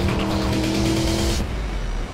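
Formula 1 safety car on a race circuit, a loud close engine roar with steady harmonic drone that cuts off abruptly after about 1.4 seconds, leaving fainter road and tire noise.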